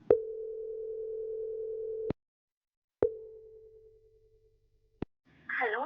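A telephone ringback tone while a call is placed: two long steady electronic tones separated by a pause, each cut off by a click, followed by the start of a voice answering.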